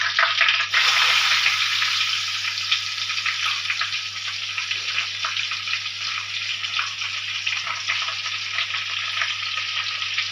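Sliced onions sizzle steadily in hot oil with fried fenugreek seeds for a fish curry, a dense continuous frying hiss throughout with faint stirring, no talk.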